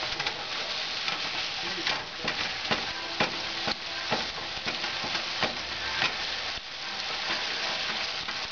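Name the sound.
meat browning in a pan for chili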